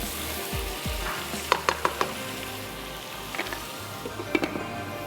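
Peas sizzle in a hot pan with oil while being stirred. A steady frying hiss runs throughout, broken by a few quick clinks and scrapes of the spoon against the pan, close and without talk.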